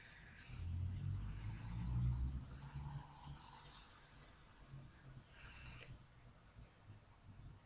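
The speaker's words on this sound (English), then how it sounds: "That was a car." A car passes outside, a low rumbling swell that rises and fades over a few seconds, heard faintly and at a distance, followed by quiet room noise.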